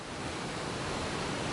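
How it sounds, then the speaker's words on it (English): A waterfall in the video game Ark Survival Ascended roars in a dense, steady rushing wash, loud and close, with no talk over it. "I like waterfalls."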